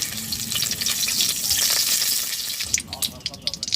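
Two pieces of bay leaf hit hot oil in a wok, giving a loud bright sizzle that fades after a few seconds into softer crackles and clinks.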